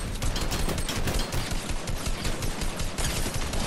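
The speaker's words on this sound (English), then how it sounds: "I just shot him down." Video game gunfire rattles in a dense, continuous burst of rapid shots, loud and close throughout with no pauses or voices.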